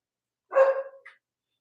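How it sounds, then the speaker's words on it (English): A single close, loud dog bark at another dog, followed by a short faint yip in an otherwise silent room. "That's my dog barking at the other dog because she's ready to eat dinner."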